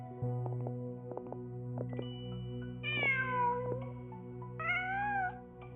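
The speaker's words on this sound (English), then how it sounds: "Huh. Just a cat." A cat meows twice in a fantasy adventure game, close and clear, each call a drawn-out, falling cry, over a steady low hum of background music and soft ambient clicks.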